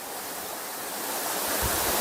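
Aruvikkachal waterfall in Kottayam roars as a steady, dense broadband rush of falling water, close and loud throughout with no voices.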